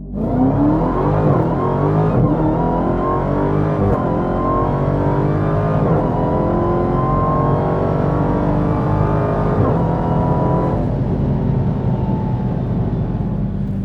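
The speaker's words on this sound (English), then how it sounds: "the noise of the supercharger, the exhaust, the way the tires squeal" A 2018 Dodge Challenger SRT Demon launches, its engine roaring loudly and continuously, revving up through several gear changes with a whining supercharger, close and sustained.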